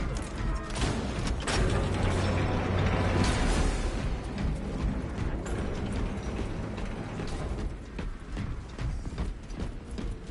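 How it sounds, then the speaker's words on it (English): Mechanical clicks and ratcheting from a weapon being reloaded in Space Marine 2, loud and dense over a constant roar of battle noise, continuing through the stretch. "Reloading weapon."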